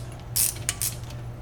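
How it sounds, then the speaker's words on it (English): A 9/16 socket or open-end wrench tightens bolts on a 16RD disassembly tool fitted with a 16RD pressure cylinder, giving two or three short, close ratcheting clicks over a low steady hum. "Tighten the bolts down snug."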